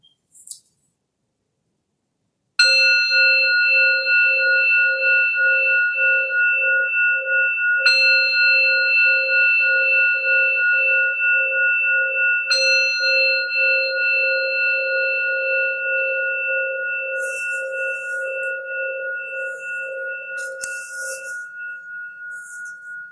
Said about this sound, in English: I'll ring the bell 3 times to start and 1 to end.